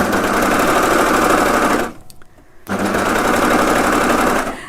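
An overlocker serger sewing a cushion, a loud rapid mechanical whir running continuously, with a brief pause in the middle before it resumes and then stops.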